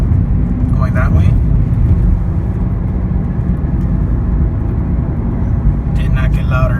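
Low droning road and tire noise inside a moving 2013 Toyota Corolla, a steady rumbling hum that holds level throughout with no clear breaks, while brief faint squeaky sounds or a voice surface near the start and end.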